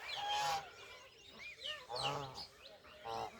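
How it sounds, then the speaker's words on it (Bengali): Ducks and geese at a village pond give several loud, nasal honks and quacks in short bursts, close by, with brief pauses between calls. "কতগুলো হাঁস, রাজহাঁস"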